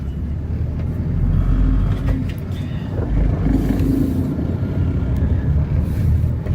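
A Proton Exora car drives along, heard from inside as a steady, loud low engine and road drone with little variation and no talk.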